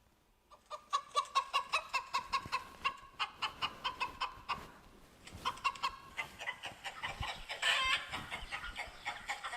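Chickens clucking in a rapid, rhythmic series of sharp calls, close and clear, with a brief pause midway before the clucking resumes and a rooster's crow rises near the end.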